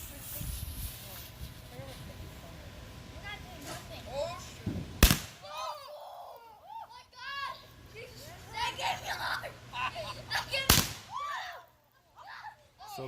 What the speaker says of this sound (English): I'm going to light this smoke tail Roman candle. Contrails is 5 smoke shots.